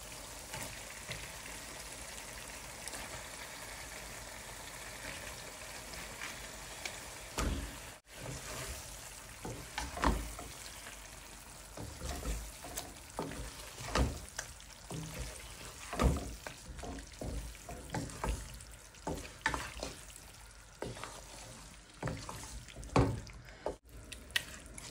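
Duck meat tossed into spice masala frying in a pan gives a quiet, continuous sizzle, with scattered soft scrapes and clatters rising and falling throughout.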